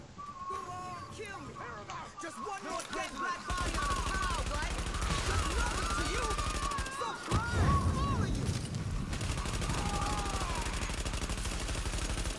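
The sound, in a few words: gunfire in video game The Division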